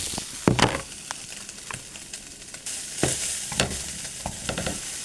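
Food stirred in a hot pan with a utensil before cheese goes in: repeated scraping and clacking strokes over a steady low sizzle, close up and with no talking.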